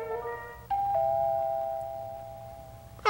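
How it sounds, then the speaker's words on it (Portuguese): A cartoon doorbell rings: a short chime followed by a long, clear sustained tone that slowly fades, alone in a quiet room with a brief sound at the end. "A campainha, Pointy."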